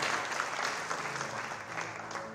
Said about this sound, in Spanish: Démosle un fuerte aplauso al Señor